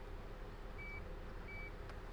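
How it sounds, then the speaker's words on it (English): Two short, evenly spaced electronic beeps from the power liftgate of a 2023 Jeep Grand Cherokee Summit Reserve as its opening height is set, faint over a low steady background hum. "it'll beep a couple times"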